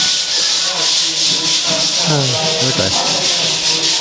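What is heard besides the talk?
sandpaper rubbing on concrete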